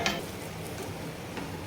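Paneer pulao rice being stirred in a pot, with soft scraping and gentle shuffling of grains against the metal, quiet and close.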